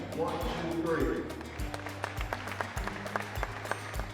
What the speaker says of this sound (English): all I want you to do is just clap your hands